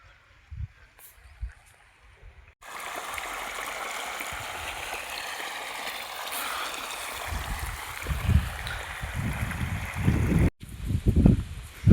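Irrigation water pours steadily into a farm field, a continuous rushing and gurgling that begins after a few quiet seconds. Low thuds and brief voices can be heard near the end.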